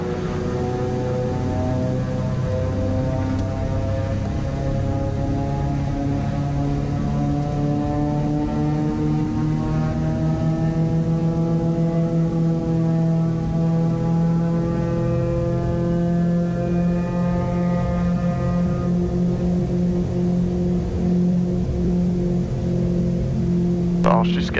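Twin engines of a Piper Navajo on its takeoff roll from runway 12, a loud propeller drone whose tones climb steadily as power and speed build, with a pilot's voice talking over it.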